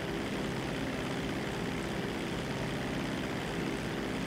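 Airplane engine in GTA V droning evenly, a continuous propeller hum at moderate distance, alone and unbroken throughout.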